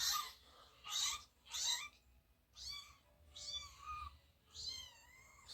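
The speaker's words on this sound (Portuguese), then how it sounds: "Ele fica doido com esse miado aí." Recorded cat meows played back through a phone speaker, about six separate drawn-out mews spaced roughly a second apart, thin and slightly tinny against a quiet low background hum.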